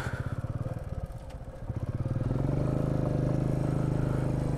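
A motorcycle engine putters close by, then revs up and settles into a louder steady drone as it rides along toward Panbu near Kalimpong, North Bengal.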